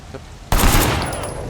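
Rapid gunfire in the video game Sleeping Dogs, a sudden loud burst of automatic shots that erupts after a quiet start and keeps rattling densely to the end.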